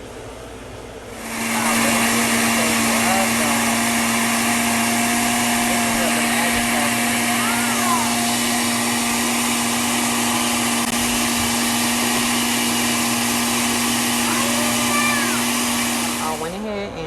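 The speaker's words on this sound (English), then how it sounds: "move this to the blender" A kitchen blender purees birria ingredients, starting abruptly and holding a loud, steady whirring roar for about fifteen seconds before winding down.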